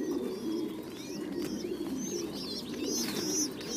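Pigeons coo softly on an industrial pigeon farm, several overlapping birds giving low rolling coos and a few chirps, steady and moderately close with no talk.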